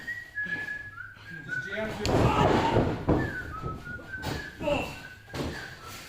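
At a wrestling tag team match, a person whistles a short tune in a few lilting phrases over the noisy background of a crowd, with thuds and talk in between.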